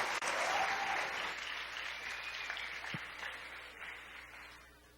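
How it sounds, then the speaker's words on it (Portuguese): A church congregation at a Saturday service applauds, starting full and loud and then gradually thinning and fading over several seconds, with faint murmuring beneath. "Uma salva de palmas para eles"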